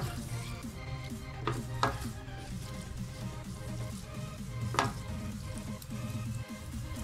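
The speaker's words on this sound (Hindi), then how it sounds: "टमाटर को भी दोस्तों मीडियम फ्लेम में पकाएंगे।" Tomatoes frying in a pan over a medium flame, a steady soft sizzle with a few sharp clinks of a utensil against the pan, close and moderately loud.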